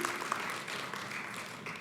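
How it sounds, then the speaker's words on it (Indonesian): A church congregation claps together in a short, dense burst of applause that holds steady throughout, fairly loud and close, with no voices standing out. "Beri tepuk tangan buat Tuhan kita."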